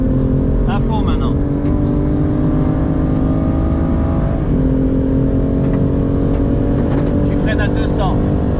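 A BMW M2 CS engine at full throttle on the Castellet race track, a loud in-cabin drone rising through the revs with a brief dip for a gear change, while a voice talks over it.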